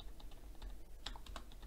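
Brief, faint computer keyboard typing as a web address is entered in a Chrome search field, a few soft key clicks spread over a short moment against background hiss, with no speech.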